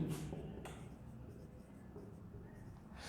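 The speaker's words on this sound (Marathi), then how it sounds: "रिडक्शन इकडे लिहितो मी" Chalk or marker scratches steadily across a classroom board as a word is written during a chemistry lesson on redox reactions, quiet and continuous for about three seconds.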